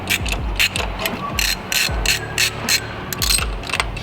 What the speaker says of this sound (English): We've got a 14mm socket, and we're just going to go in and take the old one out.